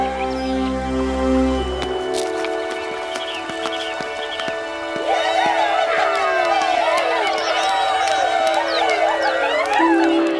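A festive crowd celebrates in the town of Lourdes, with a broad murmur of voices and cheering that swells midway over music, along with horse hooves clip-clopping nearby.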